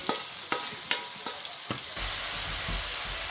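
Onion frying with garam masala and cumin in a pan, a steady sizzle broken by several sharp scrapes of stirring in the first two seconds, then a rougher, louder frying hiss.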